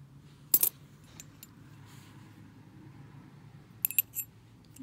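Small metal keys on a short rope clink and jangle in two brief bursts, one near the start and another near the end, close and fairly quiet against a low background hum.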